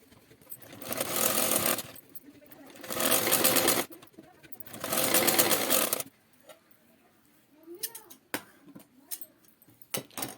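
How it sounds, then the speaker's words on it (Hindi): A sewing machine stitching a belt onto a blouse runs in three loud, steady bursts of a couple of seconds each, followed by quieter handling clicks and fabric rustle. "उसके बाद अब हम ऊपर से एक सिलाई अच्छी तरह से लगा लेंगे"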